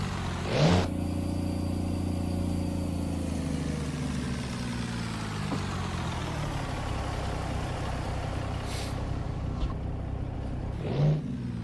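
In a truck simulator game, a heavy-haul truck's engine drones with a steady low mid-heavy rumble, holding tone for several seconds with a couple of brief noisy bursts at the start and end.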